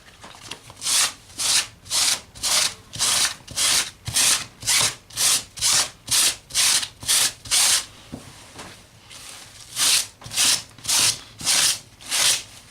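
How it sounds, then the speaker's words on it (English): Sandpaper rubbed back and forth over fabric to age it, a close, rhythmic rasping stroke repeated about twice a second, with a brief pause midway before the strokes resume. "just sand your fabric, scraping a bit off"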